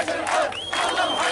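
Villagers in Kamrok near Afrin, Syria loudly cheer and shout together for Free Syrian Army soldiers, a dense continuous crowd roar with raised voices rising and falling nearby.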